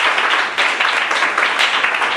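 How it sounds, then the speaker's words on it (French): An audience at the Miss Afrique Montréal 2013 pageant applauds, the dense, bright clapping continuing steadily and loudly without a break. "S'il vous plaît, on les applaudit très fort"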